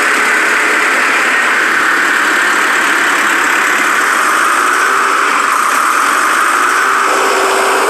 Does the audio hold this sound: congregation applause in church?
no